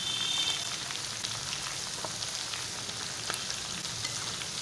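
Steady close sizzle of chicken liver pakoras frying in hot oil, a continuous crackling hiss with scattered pops throughout, no talking.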